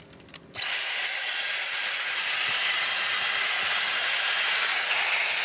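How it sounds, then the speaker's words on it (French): A vacuum cleaner switches on after a few faint knocks and runs with a steady high whine, cleaning the carpet under the floor mats of a Tesla, close and continuous. "il faut aussi aspirer la moquette dessous les tapis"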